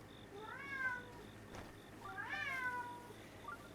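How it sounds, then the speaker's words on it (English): An agitated cat meows twice in rising, wavering cries, close and fairly loud over a steady background hum and a repeating faint beep. "My cat's flipping out."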